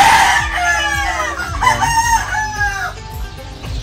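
Boston Roundhead gamecock rooster crowing close by, a loud drawn-out call with a couple of rising and falling phrases over background clucking.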